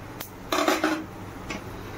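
A metal ladle clinks and scrapes against a pot as black cumin, dried chilli and mustard seeds are stirred in hot oil, a few short bursts of clatter with quiet gaps between.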